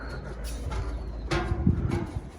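Released pet birds give a few soft, pigeon-like coos nearby over a quiet background, brief and scattered, with no talking.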